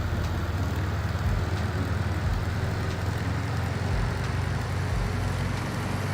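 Simulated light aircraft engine in Microsoft Flight Simulator 2024 drones steadily with a constant low rumble, the power gradually coming up, no talk over it.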